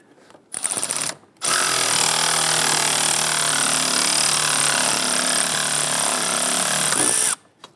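A power tool whirs as bolts are tightened on the wiper transmission bracket of a 2011-2021 Jeep Grand Cherokee 3.6L V6: a short burst, then one long continuous loud run before stopping.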